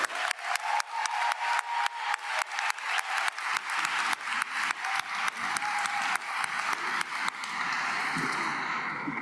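Rhythmic applause from a commencement crowd after degrees are conferred, loud bursts of clapping swelling repeatedly and then settling into a steady wash of clapping at the end.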